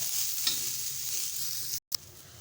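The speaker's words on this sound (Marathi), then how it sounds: "आता दोन चमचे तेल घालायचे आहे आणि कांदा लालसर होईपर्यंत आपण भाजून घ्यायचा आहे" Chopped onion fries in two spoons of hot oil in a pan, giving a soft, steady sizzle with a brief clatter of stirring and a short dropout near the end.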